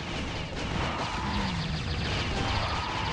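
A flamethrower fires continuously in the Alien Shooter video game, a loud, unbroken hissing roar with crackling texture running for the whole few seconds.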